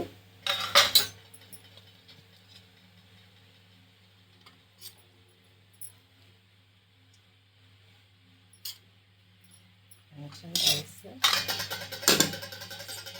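Metal serving spoon clinking against plates and pots while hot rice and curry are dished out for lunch, a few sharp clinks at the start and a busier cluster near the end, with quiet stretches between.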